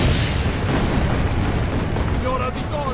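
A heavy, continuous booming roar of cannon fire and explosions during a siege in the video game Assassin's Creed Brotherhood, loud and rumbling for the whole stretch with voices partly under it.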